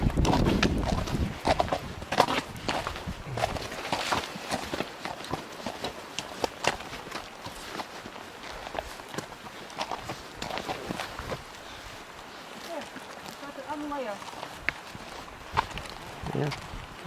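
A horse walks on a steep mountain trail along a cliff edge on the Continental Divide, its hooves clopping and crunching irregularly close by, with rustling and people talking intermittently over it.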